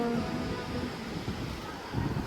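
A fast-flowing river in Sindhupalchok, a broad, continuous rushing roar heard close and fairly loud, with gusty rumbling surges and wind buffeting the microphone.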